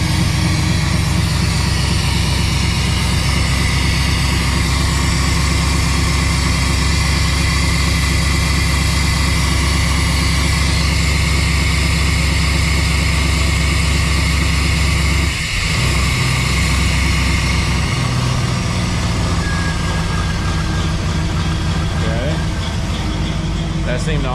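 Jeep CJ7 engine converted to throttle-body fuel injection idles with a steady, loud low drone. Partway through, the idle drops and settles lower, and a voice speaks over it.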